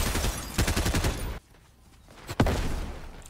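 Rapid bursts of automatic gunfire in the Fortnite video game, a loud volley, a pause, then a single sharp shot followed by more fire.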